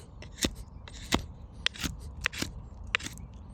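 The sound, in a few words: knife whittling wood for an eagle carving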